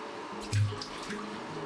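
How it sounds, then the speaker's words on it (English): Hot water poured into a plastic homebrew fermenting bucket to rinse it while brewing a milk stout, a short splashing pour with a brief louder gush near the start, heard close up. "Now we'll be rinsing this with the hot water."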